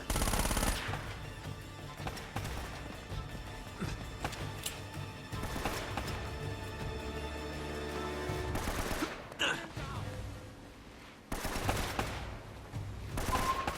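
Rapid gunfire bursts crackle throughout a firefight in the Uncharted: Drake's Fortune video game, with loud repeated shots and brief pauses amid steady game noise.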